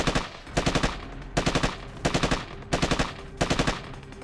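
Bursts of machine-gun fire come in rapid strings, about six clusters of several shots each over four seconds, loud and close with no voices.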